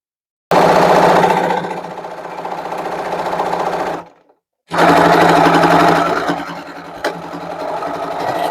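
A sewing machine stitches a thick seam on a toiletries bag in two loud, steady runs of rapid needle chatter, close up, with a brief pause between them.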